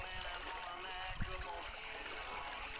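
Water rushes steadily through a gold sluice set in a creek, running tailings on Haikey Creek, Oklahoma, a continuous broadband wash with one brief splash near the middle.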